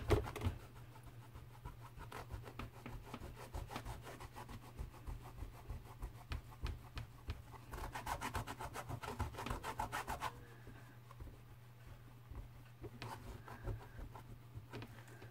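A rubber stamp from a bird stamp kit is scrubbed clean with Stylus and Clear cleaner, giving close, quiet rhythmic rubbing strokes that come in steady repeated bursts with no talking.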